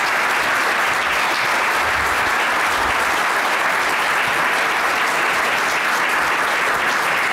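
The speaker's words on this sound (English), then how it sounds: "Let's give a round of applause to our deputy governors." A conference audience in a large hall gives deputy governors a round of applause at the close of a panel session, a loud, even, unbroken wall of clapping from many hands.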